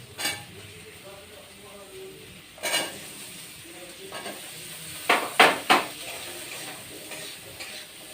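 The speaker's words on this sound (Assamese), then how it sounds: "আলুখিনি অকণমান ফ্ৰাই কৰি লওঁ," Potatoes fry in a pan with onion and ginger garlic paste, giving a low, soft sizzle under several sharp scrapes and clinks of a utensil stirring against the pan, loudest near the end.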